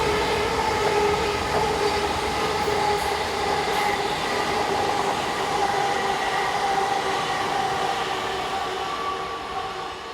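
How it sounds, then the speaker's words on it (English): Two Class AM82 electric multiple unit trains roll steadily past at close range heading north, a continuous loud rumble with a smooth whine and hum that fades slightly toward the end. "a pair of Class AM82 units head north"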